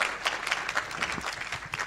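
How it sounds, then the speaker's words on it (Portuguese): Audience applause at the close of a panel session on the Hague Convention in Brazil: a steady, dense wash of many hands clapping together, fairly loud and continuous for the whole stretch, with no voices standing out. "Eu queria pedir a todos uma salva de palmas ao Diogo aqui."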